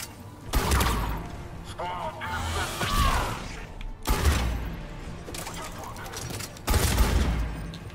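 Rapid bursts of automatic gunfire in Mass Effect 3 come in two long volleys separated by short pauses, loud and close, with voices shouting over the shooting.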